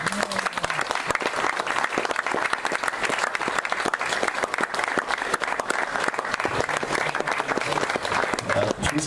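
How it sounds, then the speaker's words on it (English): Big round of audience applause for the speakers and lecturers closing an evening event, loud, dense and steady throughout, with some voices in the crowd. "give me a big applause for all speakers and all lectures here tonight"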